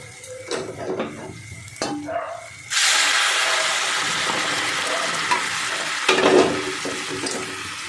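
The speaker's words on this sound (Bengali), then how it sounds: "আমি এবার গরম জল দিয়ে দেবো।" Hot water is poured into sautéed masala in a pan of potol-prawn curry with potatoes, setting off a loud, sustained sizzle and bubbling after a few utensil clinks and stirs; brief louder scraping near the end.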